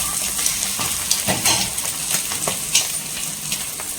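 An omelette flipped over in a frying pan, with steady, close oily sizzling and crackling plus a few light scraping clicks from a utensil against the pan.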